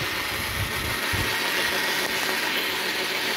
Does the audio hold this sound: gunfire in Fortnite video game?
no